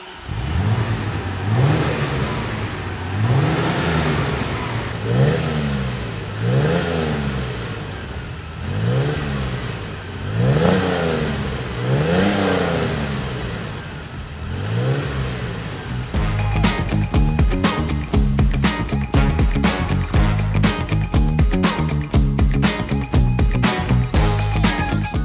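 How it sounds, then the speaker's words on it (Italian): A Ferrari Dino 246 GTS with its V6 engine revved repeatedly in rising and falling blips, then held at a steady, raspy high idle with sharp crackle; close and loud, with no talk. "La caratteristica di questi motori 6 cilindri V è che hanno una sonorità molto graffiante"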